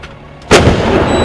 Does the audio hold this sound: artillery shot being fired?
yes